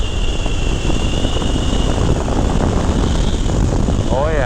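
A 2016 Harley-Davidson FXDLS Dyna S with a six-speed cruise drive transmission roars steadily as it accelerates, loud continuous engine and wind rumble filling the whole stretch.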